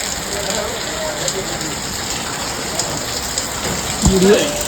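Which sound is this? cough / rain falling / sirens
rain falling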